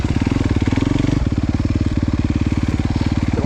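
Honda CRF250R dirt bike engine, 2023 model, held on launch control for a start, a loud, close, rapid pulsing engine note that stays steady throughout.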